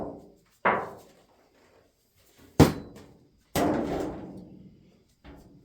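Plastic back panel of a Samsung UN60J620DAF television being handled and lifted off, a few separate hollow knocks and clacks with short decays, one sharp and loud, close by, with no talking.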